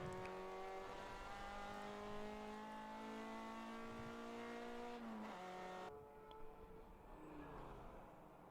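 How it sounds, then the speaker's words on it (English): A Ford Mustang race car in a ChampCar endurance race at Utah's circuit revs high and drops its pitch as it brakes into turn 1, engine loud and sustained, then fading as the car passes. "Mustang going into turn 1 there."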